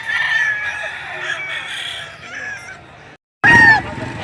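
Chickens at a busy poultry market cluck and crow continuously over crowd noise, with a brief pause before a loud close burst of squawking and crowing.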